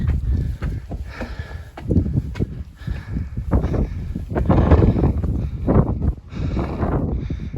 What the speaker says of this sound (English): Oh, it's cold up here. It's windy.